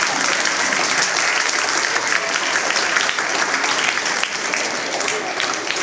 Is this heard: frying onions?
no